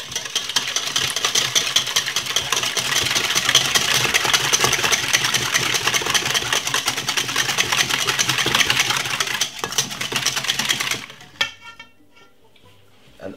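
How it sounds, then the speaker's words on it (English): Two eggs are beaten for a cinnamon sponge, a rapid, dense rattle of whisk against bowl lasting about eleven seconds, close and loud, then stopping abruptly into near quiet. "Then get 2 eggs. That's one. Two. And simple, give it a whisk."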